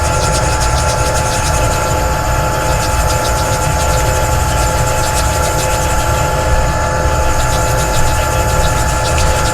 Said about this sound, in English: We've got our first grit of 120. So we're just going to sand a little bit.